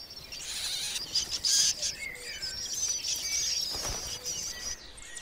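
Young blackbirds in the nest calling shrilly and insistently, high thin chirps overlapping continuously at close range with small rustles underneath.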